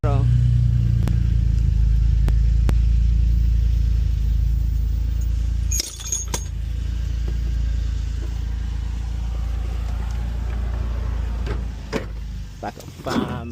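A 2011 Chevy Camaro V6 idles with a slight misfire, giving a steady, close low rumble broken by a few sharp clicks and a brief dip midway. People talk nearby.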